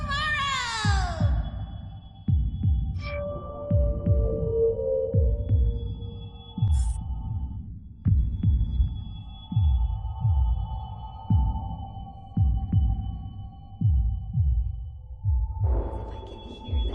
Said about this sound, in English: If I can hear the sound of my heart beating.